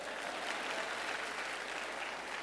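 Faint, steady applause from a Catholic church congregation during a priest's homily, an even, continuous patter of many hands heard from a distance with no pauses.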